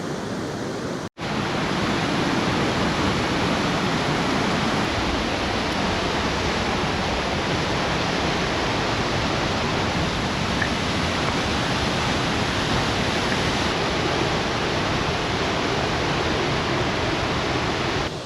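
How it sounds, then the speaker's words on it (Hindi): The fast-flowing, glacier-fed Pushpawati river on the Valley of Flowers trek, a loud, steady, broadband rush of churning water that roars without pause after a brief dropout near the start. "बहुत ही ज़्यादा तेज बहाव है पुष्पावती रिवर का।"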